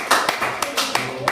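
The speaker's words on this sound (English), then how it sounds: "Good, round of applause." A small audience claps in a brief scattered burst of uneven, close hand claps, with talk mixed in.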